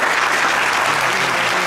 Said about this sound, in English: Give us a little round of applause.